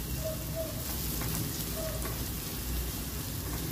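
Chopped onion sautés with chili powder and turmeric for a wild-greens dish. An even, close hiss of frying runs steadily with faint clinks, and there is no speech.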